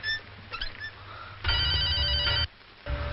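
A telephone rings in a Telugu film scene, one long electronic ringtone burst plus shorter chirps, fairly clear with no talking over it.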